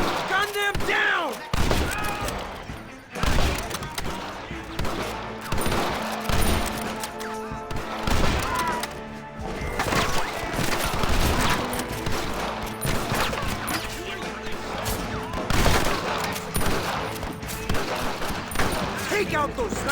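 A shootout in the Western video game Red Dead Redemption erupts in dense, overlapping gunfire, rapid bursts and single cracks layered with smashing impacts, loud and relentless, with shouted voices breaking through the barrage.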